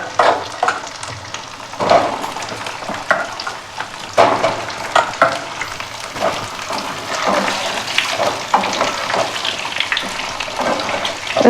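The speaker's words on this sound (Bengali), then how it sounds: "সেদ্ধ আলুটা এটা একটু সামান্য ভাজবো" Boiled potatoes frying in a pan make a loud, continuous sizzle close up, broken by frequent scraping and stirring clatters, with no one speaking.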